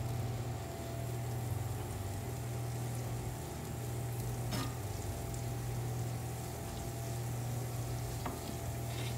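Unsalted butter melting in a frying pan, a steady, soft sizzle that runs continuously and evenly, with a low electrical hum underneath and a couple of faint clicks.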